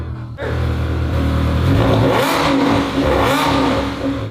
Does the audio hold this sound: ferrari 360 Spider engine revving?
yes